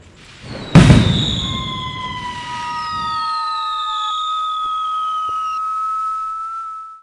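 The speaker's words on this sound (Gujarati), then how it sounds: "અલે આ કયો નખોદિયો ફટાકડા ફોડે છે?" A firecracker goes off with a sharp loud bang, followed by long descending whistling tones that fade out, close and alone without talk.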